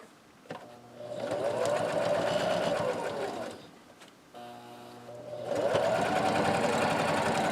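A sewing machine stitches a hot pad in two bursts of rapid, steady mechanical whirring, close and clear, with a brief pause between them.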